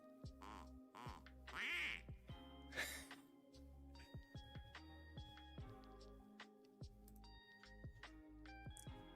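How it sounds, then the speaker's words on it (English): Duck quack alert on a livestream: a few electronic quacks and ding-like chimes ring out over soft background tones, clear and close, with no talking. "Oh, it's time for a quack too. So let's see if quack works."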